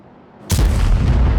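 An SU-100 tank destroyer firing its main gun in a tank video game, on the Live Oaks and Steppes maps: one sudden loud, close boom followed by a rumbling decay.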